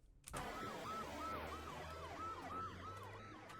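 Ambulance siren in an animated cartoon show: a loud wailing siren with a rapid repeating up-and-down sweep, continuous over a low engine rumble after a brief sharp start.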